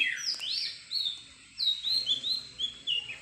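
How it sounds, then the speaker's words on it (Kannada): Birds chirp and tweet in quick, high-pitched bursts in the morning, several calls overlapping outdoors in a village at moderate distance with a quiet background. "ಹಕ್ಕಿಗಳ ಒಂದು ಚಿಲಿಪಿಲಿ ಅವುಗಳನ್ನೆಲ್ಲ ಕೇಳಲಿಕ್ಕೆ ತುಂಬ ಚೆನ್ನಾಗಿರುತ್ತೆ"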